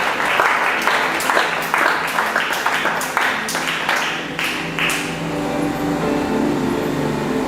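Church congregation applauding during a Friday worship service, a dense, steady wash of many hands clapping with a few louder bursts, continuing for several seconds and thinning toward the end under faint background voices.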